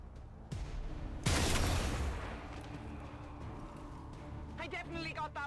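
A single heavy gunshot goes off in XCOM 2, a sharp blast that rolls away into a fading rumble, with game sounds and a voice talking around it.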